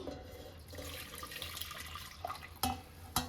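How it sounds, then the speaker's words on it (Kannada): Strained cowpea cooking water pours into a pot in a home kitchen, a steady splashing stream close by, ending with a couple of sharp clinks. "ಈಗ ಸಪ್ರೇಟ್ ಮಾಡ್ಕೊಂಡಿರೋ ನೀರನ್ನು ಇದಕ್ಕೆ ಹಾಕ್ತಿದ್ದೀನಿ."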